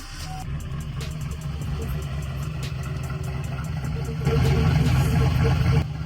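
A 2011 Chevrolet Silverado pickup with an aftermarket cam idles with a loping, uneven lumpy rhythm, close by, swelling briefly louder toward the end.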